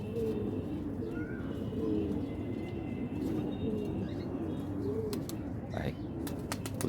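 Pigeons in a loft in Imbaba coo in repeated low, rolling phrases, several birds overlapping in a steady rhythm close by, with occasional faint chirps and a soft background hum.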